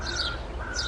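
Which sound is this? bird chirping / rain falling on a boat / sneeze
bird chirping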